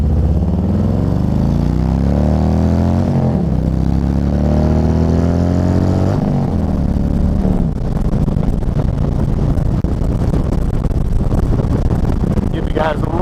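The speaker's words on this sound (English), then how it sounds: "Give you guys a little exhaust note there." A motorcycle fitted with a $300 aftermarket 2-into-1 exhaust drones loudly while riding, its engine note rising and falling through gear changes over constant wind buffeting on a helmet-mounted microphone.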